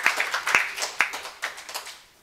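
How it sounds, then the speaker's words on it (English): Scattered applause at a partnership ceremony, with a handful of distinct sharp claps over lighter clapping that gradually dies away to quiet within about two seconds. "Give him a round of applause."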